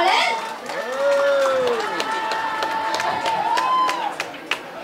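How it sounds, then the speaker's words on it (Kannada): An audience at a Kannada film press meet for the movie Gowri claps and cheers, with scattered hand claps, whoops and excited crowd voices mixing into a lively burst of applause. "ಅವ್ರಿಗೆ ಬರಲಿ ಜೋರದ ಚಪ್ಪಾಳೆ"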